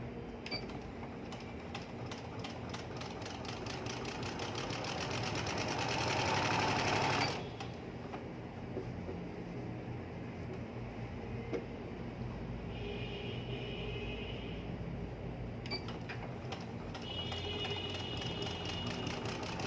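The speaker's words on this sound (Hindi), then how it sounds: "इलास्टिक के ऊपर हम सिलाई नहीं लगा रहे, हम बस कपड़े के ऊपर सिलाई लगाएंगे।" A sewing machine runs steady stitches through ladies' trouser fabric beside the elastic waistband. It makes a continuous close mechanical whirr that swells louder for the first seven seconds, then carries on at an even pace with faint clicks.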